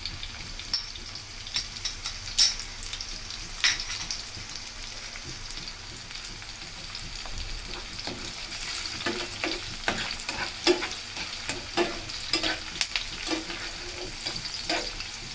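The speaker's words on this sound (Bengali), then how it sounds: "পেঁয়াজটা একটু ভাজা হয়ে নে।" Onions sizzle in a pan for a Bangladeshi rohu fish roe dish, a soft steady frying hiss broken by repeated scraping and clinking of a spatula stirring, close up with no talk.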